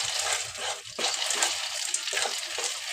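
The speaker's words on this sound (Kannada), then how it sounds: "ಹಿಂಗಾದ ಕೂಡಲೇ ಈಗ ಶೇಂಗಾ ಕಾಳು ಸುರಿದ್ರಿ" Peanuts pour into thick, boiling jaggery syrup for peanut laddu, making a close, steady rustling hiss with a few louder surges and no talking.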